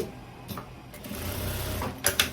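Sewing machine running a finishing seam on tailoring fabric, a steady close mechanical whir with a couple of sharper bursts near the end.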